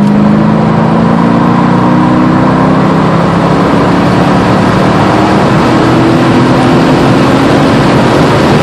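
A Mercedes-AMG C55 accelerates hard on the Summit Point race track, its engine a loud, continuous roar that climbs steadily in pitch close up, with no talk.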